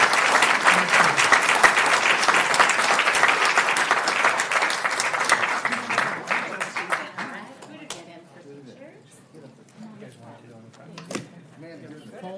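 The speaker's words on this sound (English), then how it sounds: "Can we just have applause for these businesses?" Loud sustained applause fills a city council meeting chamber for about seven seconds, then dies away into murmured talk and a few stray claps and knocks.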